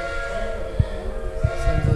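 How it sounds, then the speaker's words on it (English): Brecon Mountain Railway train at Pant station, heard as a steady low rumble with a few short knocks and clanks, close by, with faint voices nearby. "Send the train."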